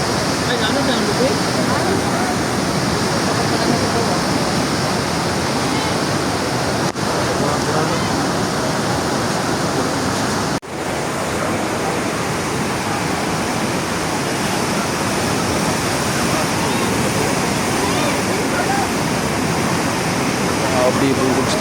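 Flash flood water rushing through General Santos City, a dense, unbroken roar of churning water, loud and close throughout with no pauses.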